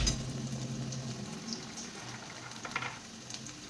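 Fresh green chickpeas tumble into a hot cooking pan, setting off a steady bubbling sizzle with a few soft clatters as they land, close and moderately loud with no talking.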